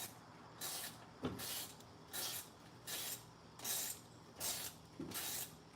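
A coupler is tightened during a car head gasket replacement, likely with a ratchet: about eight regular bursts of close, raspy clicking with short pauses between them, with no talk.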